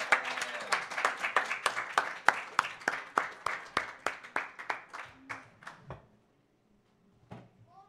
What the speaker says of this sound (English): Another round of applause for Kelsey and Kyle.